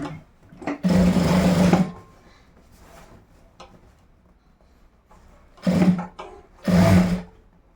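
A sewing machine stitches a seam on boys' school uniform shorts, sounding in three short bursts, one longer and two brief, separated by quiet handling of fabric.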